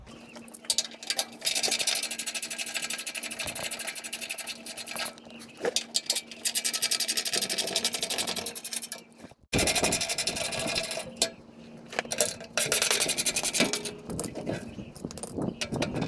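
Bolts come off the skid plate of a 2016 Toyota 4Runner with a power tool, in long close whirring and rattling runs broken by short pauses.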